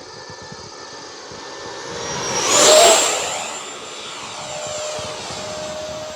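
An E-flite F-16 Thunderbirds 80mm ducted-fan model jet flies past with a whining roar that swells to a loud peak midway, then fades into a steady distant whine, with no talk.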